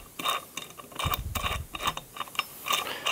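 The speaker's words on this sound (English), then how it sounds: "So you thread the bolt in as far as it'll go." A bolt being threaded by hand to drive a pulley onto a power steering pump on a 1971 Dodge Dart Swinger with a Magnum engine, heard as quick, close metallic ratcheting clicks in an irregular rhythm.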